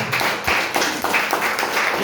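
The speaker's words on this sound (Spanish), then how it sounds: "Bríndele fuerte aplauso a Cristo." Congregation in a church service clapping in a fast, steady rhythm, a dense roomful of applause heard close and loud with no talk.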